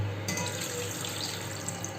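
Water pours steadily into a stock pot of bones and flavouring ingredients in a kitchen, a close, even rushing flow with no pause across the two seconds.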